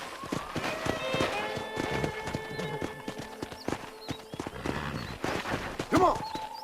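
A horse in the Red Dead Redemption video game clops along at a walking pace, its hooves in an uneven rhythm, before a short whinny near the end, with music and talk alongside.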